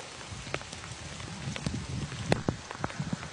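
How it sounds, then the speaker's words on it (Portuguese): Rain falls in the Pantanal wetland as a steady, close patter with scattered sharper drops landing on surfaces, with no voices over it. "Tá chovendo no Pantanal!"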